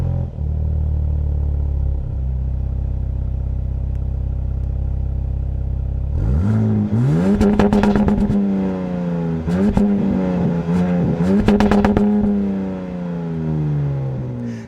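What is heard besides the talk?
2025 Ram 1500 RHO twin-turbo inline-6 engine starting and revving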